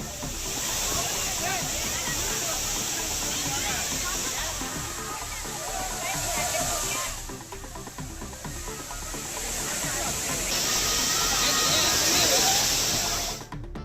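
Suruli waterfall roars with a steady, dense rush of falling water, continuous and fairly loud throughout with slight swells, while a voice talks over it.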